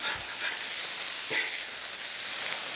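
Burger patties sizzle on a hot flat-top griddle with a steady, close crackling hiss and a few brief pops, no voices.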